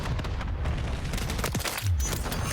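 Loud gunfire in Modern Warfare 3, a dense, sustained barrage of shots and booming impacts close up, with no talking.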